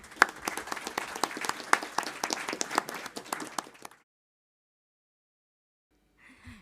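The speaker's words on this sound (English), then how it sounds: "let me invite all of you in joining me in a round of applause for our excellent interventions" An audience at a transatlantic defence panel event breaks into close, dense applause for about four seconds, then the room falls silent.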